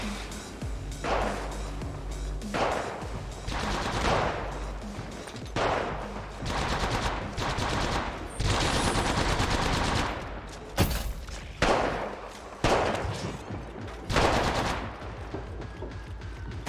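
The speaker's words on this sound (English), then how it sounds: "Opening fire. Taking fire." Video game gunfire in bursts of rapid automatic shots, loud and close, repeating every second or two with brief gaps and a few sharper single cracks between.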